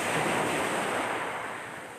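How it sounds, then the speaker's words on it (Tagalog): Ocean waves crash and wash continuously onto the shore, a steady broadband roar close to the microphone with some wind buffeting and no voices. "Pakinggan ninyo ang hampas ng alon. Ang sarap pakinggan."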